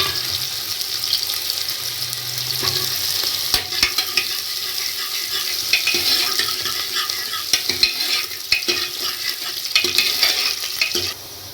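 Chopped onions fry in oil inside a pressure cooker, with a steady broadband sizzle and occasional stirring scrapes and clinks throughout, fairly close and continuous with no talking.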